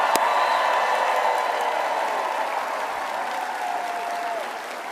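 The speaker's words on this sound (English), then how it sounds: "let's take a moment and give a grateful round of applause for our first responders" A large crowd at a political rally applauds steadily, a dense wash of clapping that holds for several seconds and slowly tapers.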